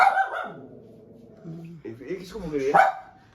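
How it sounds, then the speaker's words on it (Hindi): Dog barking in a residential lane, a couple of short barks heard near and fairly loud, mixed with someone talking nearby. "कोई भी गली में आए, कोई भी बाहर आए, भौंकती है तो पागल ही है ना ये।"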